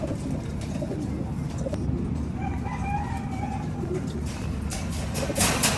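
Caged US and Taiwan racing pigeons in a loft, with steady low cooing and faint rooster crowing in the background, all over constant dense noise and no distinct talk.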